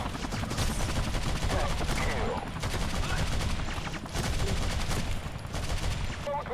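Enemy MC8 gunfire in the mobile shooter Modern Combat 3, with sustained rapid automatic bursts filling the whole stretch, loud and dense with only brief dips between volleys.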